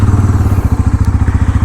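Bajaj Pulsar NS400Z motorcycle started from cold, a loud close engine catching and settling into a steady, pulsing idle thump.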